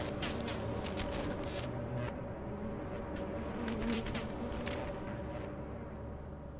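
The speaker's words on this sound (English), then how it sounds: "These bees are really pissed off." A steady drone of buzzing bees in the video game Lethal Company, fairly close, with individual buzzes swelling and fading over a constant hum.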